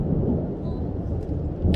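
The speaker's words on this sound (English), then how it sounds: "got a thunderstorm above us." A thunderstorm directly overhead at the end of the day, its thunder a deep, continuous rumbling roll that fills the short moment, with a faint hint of rain behind it and no talking.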